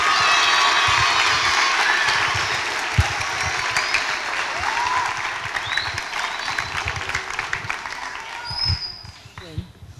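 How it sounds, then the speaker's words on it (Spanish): An audience at a certificate ceremony closing event applauds loudly and steadily, a dense wash of many hands with some cheering, fading slightly toward the end. "por favor, un fuerte aplauso a todas estas instituciones comprometidas con el Plan Digital"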